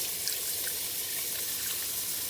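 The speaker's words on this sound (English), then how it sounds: "So let me continue adding water." A steady hiss of water pouring into a pot of beans during cooking, continuous and fairly close, with no talking.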